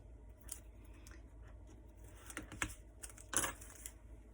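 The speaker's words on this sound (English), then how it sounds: "So just removing all the tape." Tape is picked and peeled off a 6x8 album with a small tool, giving faint, sparse clicks and soft scratchy tearing that build to a brief louder rip near the end.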